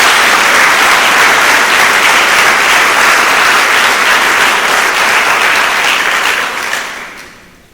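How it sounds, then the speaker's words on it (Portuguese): A church congregation gives loud, sustained applause during a sermon, a dense wash of many hands clapping that holds steady for several seconds and then fades out near the end. "Dê uma salva de palmas a Jesus"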